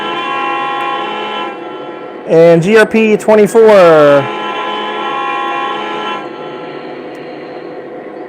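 Lionel model trains running, a steady mechanical hum underneath a loud multi-tone horn sounded in a few short, then sustained, blasts, with someone speaking briefly.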